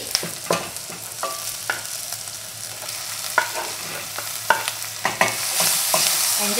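Beef pieces frying and stirred in a pot for a spicy soft tofu stew, a steady sizzle broken by repeated clacks and scrapes of the utensil at irregular intervals, close and clear with no talking.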